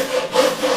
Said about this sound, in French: je prends ma brosse, je la rentre et je frotte